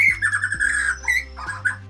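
A captive white-rumped shama (murai batu) songbird calling up close, giving a few loud clear whistled notes and squawky phrases with short pauses and a faint low hum behind them.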